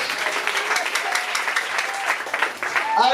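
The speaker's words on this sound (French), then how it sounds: "Just clap for him." A church congregation bursts into steady applause for a man, dense close clapping with a few scattered voices and cheers mixed in, building slightly toward the end.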